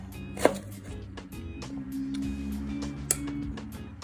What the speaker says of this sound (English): you're just gonna cut those up into somewhat thin slices